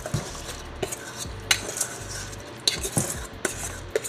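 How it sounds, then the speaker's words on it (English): Washed rice tipped into a cooking pot for beef stew and pumpkin rice, producing scattered clinks and scraping knocks of metal against the pot, with several sharp taps spread across a few seconds and no talking. "add up the rice in the pot"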